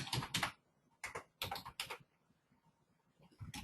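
Typing on a computer keyboard, short bursts of quick, faint key clicks separated by brief pauses, close and quiet.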